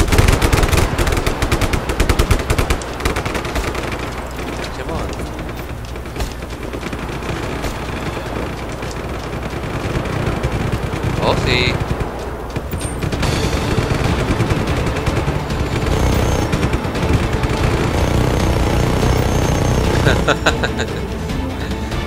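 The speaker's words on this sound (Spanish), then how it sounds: "¡Sube a la torre y maneja el arma!" A mounted tower gun in Just Cause 3 fires in sustained, loud automatic bursts, with a heavy, continuous rattle of gunfire that runs nearly unbroken, with brief lulls and a few explosive hits in between.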